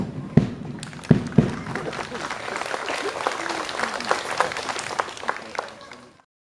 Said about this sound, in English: You can give them a loud round of applause.